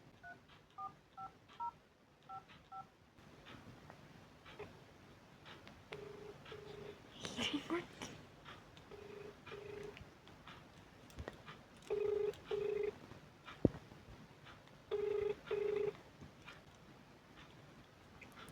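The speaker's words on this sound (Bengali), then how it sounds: "তো চলো আবার একটা অন্য নাম্বার ডায়াল করি।" Telephone keypad tones as a number is dialed, short paired beeps in separate bursts, some in quick clusters and others held longer, over quiet room background with no talk.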